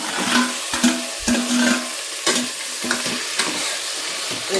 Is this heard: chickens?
no